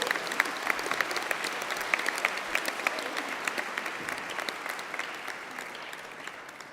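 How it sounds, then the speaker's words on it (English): Applause from an indoor audience at an annual general assembly: dense, steady clapping that continues throughout and slowly fades toward the end. "maybe a big round of applause for these 2 young women and their bravery here today"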